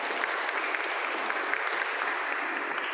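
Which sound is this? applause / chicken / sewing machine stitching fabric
applause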